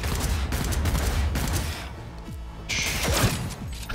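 Gunfire in the Cyberpunk 2077 video game: rapid bursts of shots and heavy impacts, dense and loud, with a brief lull before another burst of fire.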